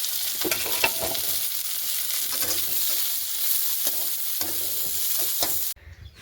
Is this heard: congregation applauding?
no